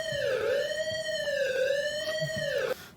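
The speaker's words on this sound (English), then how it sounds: "It's a fucking alarm!" A loud siren-like alarm wails continuously, its pitch sweeping up and down in repeated cycles before cutting off abruptly near the end, with faint background noise underneath.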